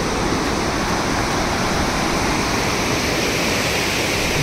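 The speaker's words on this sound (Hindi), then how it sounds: "ये देखो ग्लेशियर के नीचे से पानी आ रहा है" Glacier meltwater stream rushing out from under the ice in Sonamarg, Kashmir, a loud, steady, dense roar of water that continues unbroken throughout with no talk.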